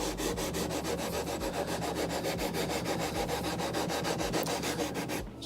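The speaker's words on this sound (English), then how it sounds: "So we're picking our medium sanding beam." A medium sanding beam rubbed steadily back and forth across guitar frets on a repair bench, a continuous rhythmic scraping with regular strokes, close and fairly loud, with no talk.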